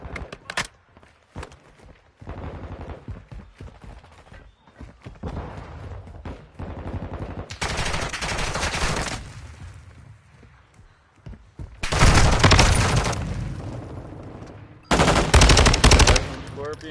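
Video game gunfire in Modern Warfare 2: rapid automatic bursts crackle in several long volleys, separated by quieter stretches of footsteps and clanking movement.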